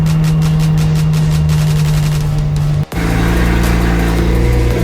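A Lamborghini Countach being driven on Italian country roads, its engine running loud and steady from close by, with a brief gap of near silence midway before the droning resumes, apparently after a gear change.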